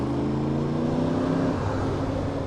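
Yamaha R1M superbike engine running steadily, a loud continuous low-pitched drone with layered harmonics and no break or pause.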